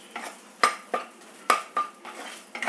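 Eggplant sautéing in oil in a pan, with a spatula clanking and scraping against the metal in about six sharp, separate strokes. Only a faint sizzle sits underneath, and no one speaks.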